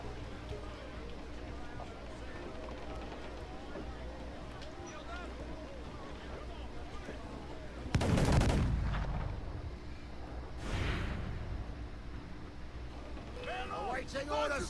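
Cannon fire in a retro PC naval battle game: a loud booming blast with a rushing tail cuts through steady ship and water ambience, followed by a second, softer blast and later crackling noise, with voices speaking around it.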